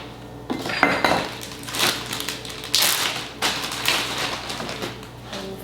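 One cup of ice cubes tumbling into a blender for a cucumber, celery, dandelion green and ginger smoothie, a rattling, clinking clatter of hard cubes against the jar that rises and falls over several seconds.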